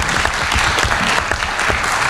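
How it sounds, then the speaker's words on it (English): Audience at an academic panel discussion gives the panelists a round of applause, a loud, dense, close wash of clapping that fills the whole moment with no voices. "How about a round of applause for the panelists?"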